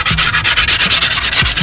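Spare piece of skateboard grip tape rubbed hard over grip tape on a board, a loud rapid back-and-forth scraping in steady strokes, close and with no talk.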